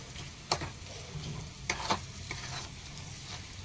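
Chicken cooking Bengali style in a pan, stirred with a spatula: a low, steady sizzle with a few scraping stir strokes rising briefly above it, fairly quiet and close, no talking.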